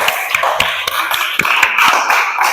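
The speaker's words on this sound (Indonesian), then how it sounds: "Oke, tepuk tangan dulu semuanya." A class claps hands at the end of a lesson: a handful of sharp, close claps at an uneven rhythm over a low steady hum.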